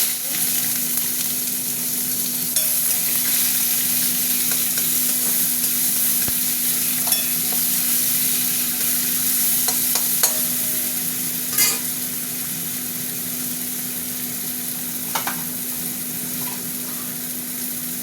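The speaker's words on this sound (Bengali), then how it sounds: "তেল গরম হয়ে গেছে, পেঁয়াজ দিয়ে" Onions frying in hot oil for a Bengali pointed gourd and prawn curry, giving a loud, continuous close sizzle with a few spatula stirs and light clinks over a steady hum.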